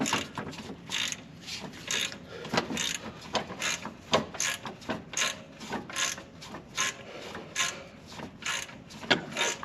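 A cheap puller on the crank pulley of a Chevy Express engine ratchets steadily, a close run of repeated clicks and mechanical clunks with nobody talking.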